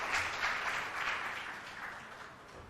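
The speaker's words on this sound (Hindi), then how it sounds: "तो जोरदार तालियां तीनों ही गेस्ट के लिए।" An audience at a live public discussion event applauds three guests, a continuous wash of clapping heard from a distance and fairly faint, slowly tapering off.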